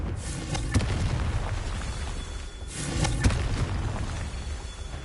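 A blasting spell in the video game Hogwarts Legacy goes off twice, each a loud booming burst about two and a half seconds apart over a rumbling game background.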